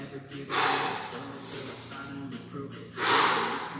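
Two forceful, breathy exhalations during a floor workout session, each a loud rushing burst of air close to the microphone, spaced a few seconds apart.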